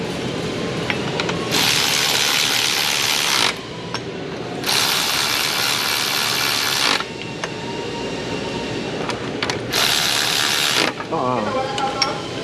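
A ratchet tightens an alternator bolt on a Hyundai Palisade in three separate bursts of rapid, close clicking, each lasting a couple of seconds with short pauses between.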